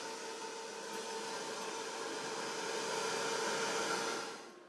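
A hair dryer blasts steadily to dry a paper craft, a loud continuous whooshing hum that holds for several seconds and then winds down at the end.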